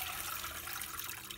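Tap water runs steadily into a sink while bok choy leaves are rinsed, a soft, even splashing rush that stays faint and unbroken for a brief moment with no talk.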